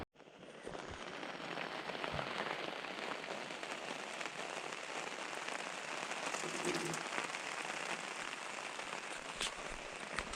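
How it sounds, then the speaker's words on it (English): Steady rain falls in the mountains of the Spanish Pyrenees, a dense, even hiss of drops on surfaces lasting throughout, close and continuous with no talking. "It's a rainy day in the mountains, I would say."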